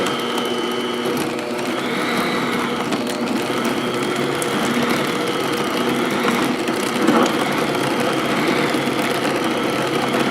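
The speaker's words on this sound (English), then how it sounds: "we're going to use electric mixer, which makes life easier" An electric mixer on medium speed beats pumpkin cheesecake batter, a loud, continuous whirring motor hum with a faint rattle that holds steady for the whole stretch, with no talking.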